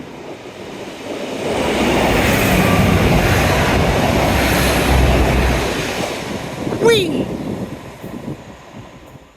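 A train rumbles past close by at seaside Teignmouth over wind and surf noise, swelling and fading, with a brief excited shout near the end.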